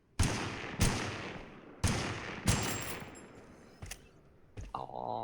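A Winchester rifle fired in the game TABG, single sharp cracks spaced roughly a second apart, about five loud reports with fading tails, followed by a quieter shot and a brief mechanical ring.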